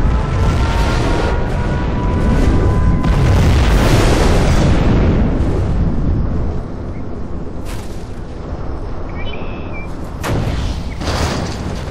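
A nuclear missile launches and explodes in Command and Conquer Zero Hour, with a loud rumbling blast and roar that swell and then fade, followed by scattered booms and game effects.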